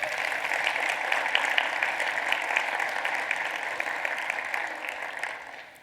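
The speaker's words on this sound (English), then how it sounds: "So if we could get a round of applause for Kelly, that would be amazing." A conference audience at a Rails developer event claps in a sustained round of applause, a dense crackle of many hands at moderate distance that holds steady then fades toward the end.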